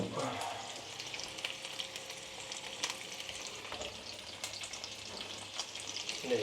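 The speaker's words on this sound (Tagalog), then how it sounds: "hintay lang natin mapirito" Food frying in hot cooking oil on a home kitchen stove gives a steady, close sizzle dotted with sharp crackles and pops throughout.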